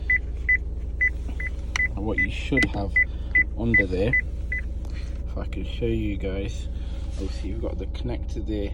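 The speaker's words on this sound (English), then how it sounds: "I had to sort the parking sensors kept going off" A 2014 Vauxhall Insignia's parking sensors give a regular series of short, paired beeps, fairly faint and steady over an idling engine hum, while someone talks close by.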